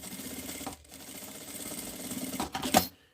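A sewing machine topstitches along the outer edge of a fabric wallet in short runs of rapid, rhythmic stitching, separated by brief pauses and ending in a louder clunk before stopping.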